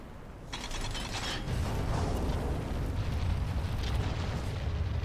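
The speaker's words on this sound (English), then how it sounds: "now we can lift the statue up with the crank" A stone statue grinds upward as a crank turns in the video game Darksiders, a steady low rumbling mechanism with faint ratcheting clicks that swells after the first half second and continues evenly to the end.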